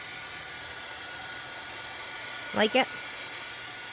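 A dryer running as a steady, faint whooshing hum in the background, with a brief spoken question near the end.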